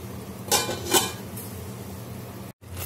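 A lid set onto a cooking pan gives two quick metallic clanks close by, followed by a quiet steady background hum.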